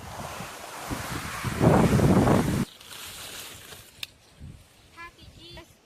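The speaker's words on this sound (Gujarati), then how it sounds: "પેલા આ પવન કેટલો આવે ગાઈસ" Strong wind buffets the microphone at the seashore with waves in the background, a loud roaring gust peaking midway before dropping to a quieter breeze, with voices speaking near the end.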